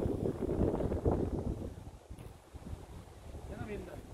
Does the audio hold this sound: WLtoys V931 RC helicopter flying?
no